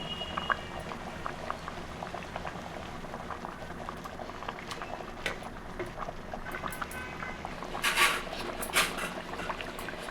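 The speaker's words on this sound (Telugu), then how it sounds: "కొరమేని చేప పులుసు రెడీ అవుతుంది చూడండి" A pot of Korrameenu (murrel) fish curry with raw mango simmers at a steady bubbling boil, with small pops and gurgles throughout and a brief louder burst of bubbling near the end.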